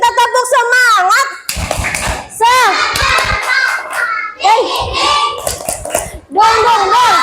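Children clap a rhythmic chant in a classroom, producing sharp, close hand claps mixed with loud sung and shouted children's voices throughout.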